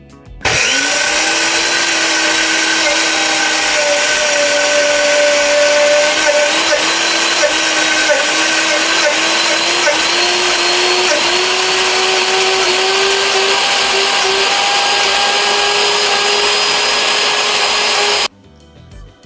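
An electric blender grinds peanuts with olive oil into peanut butter, its motor a loud, steady whine that runs continuously for about eighteen seconds, rising slightly in pitch as the mixture smooths, then cuts off abruptly.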